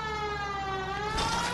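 A police car siren sounds in L.A. Noire, a sustained rising wail held loud and near, with a burst of broadband road and engine noise joining near the end.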